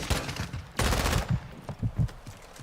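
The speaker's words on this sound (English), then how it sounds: "A DMR gun." DMR gunfire in a video game: a loud, close burst of shots comes first, followed by several sharp, separate cracks spaced a beat apart.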